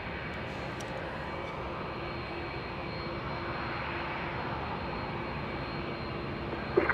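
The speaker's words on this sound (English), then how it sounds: "we'll see that 747 exit the runway" A Boeing 747 serving as Air Force One rolls off the runway at Los Angeles International Airport, a steady broadband jet-engine roar held at a constant moderate level, with a brief louder burst right at the end.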